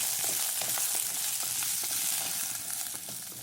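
Curry leaves dropped into hot oil in a pan, frying with a loud, steady close sizzle and fine crackling that carries on throughout.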